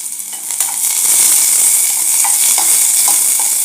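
Onion sautés in oil for a Kolhapuri egg curry, a loud, close hissing sizzle with several light spatula taps and scrapes, no voices.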